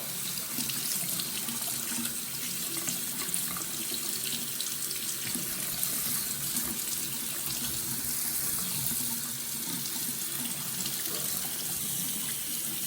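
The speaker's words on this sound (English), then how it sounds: "Just let the water once again run on the watch." A tap runs steadily over a Casio G-Shock Rangeman GW9400 watch in a sink, a constant hiss of splashing water close up with no pauses or voices.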